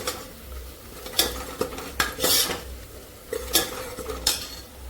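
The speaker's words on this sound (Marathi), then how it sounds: "आता याच्यामध्येच मी मटण पण ॲड करते लगेच" A spoon stirs mutton into spice masala in a metal pot, giving a few loud scraping clanks against the pot and faint sizzling in between, with no voice heard.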